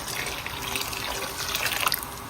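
Cold water poured from a container into a pot of Jamaican red peas soup, a steady splashing, gurgling stream that runs for a couple of seconds, close and fairly loud, with no voices.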